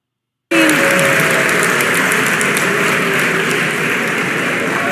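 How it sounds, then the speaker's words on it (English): A large crowd gives sustained applause and an ovation at a Politicon debate between Ann Coulter and Ana Kasparian. The dense, loud, continuous clapping begins suddenly after a moment of silence and carries on without letup. "that was a huge ovation continuing"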